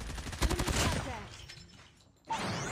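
Chopper light machine gun fires in a video game, a rapid burst of sustained automatic shots up front, then a brief lull before another sharp impact.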